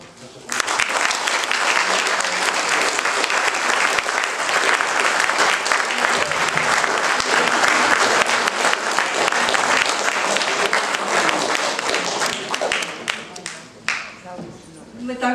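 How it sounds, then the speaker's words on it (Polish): An audience in a hall applauds a folk ensemble with loud, dense, steady clapping that continues for about twelve seconds, then thins out into scattered claps and a few voices. "podziękować dla wszystkich tu zebranych w sali za te oklaski"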